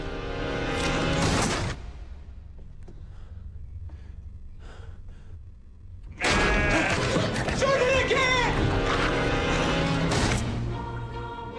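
Sheep on a farm bleat in wavering cries amid loud, dense film-trailer sound, with a quieter stretch in the middle and a voice speaking.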